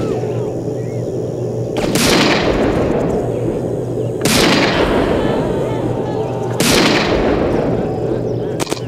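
Gunfire in the video game Postal 2 comes as three heavy booming blasts a couple of seconds apart, each with a long rumbling decay, loud and close over a steady background.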